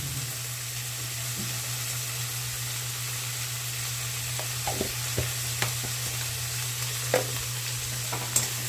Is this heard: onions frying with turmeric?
yes